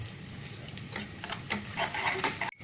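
Chopped onion and curry leaves fry in hot oil in a pan, a steady close sizzle with bursts of crackling and stirring scrapes, ending in an abrupt cut.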